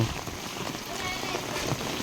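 Rain pours steadily outside a village house, a dense even hiss with faint patter and no pauses throughout.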